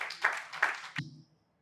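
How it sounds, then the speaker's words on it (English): An audience claps in a few loose, rhythmic waves at a live event, the applause thin and fairly close before stopping abruptly. "Let's give him a round of applause"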